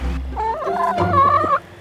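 Chickens cluck and gobble up close in a steady, busy burst with no talking.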